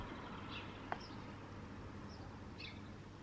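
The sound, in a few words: birds singing outdoors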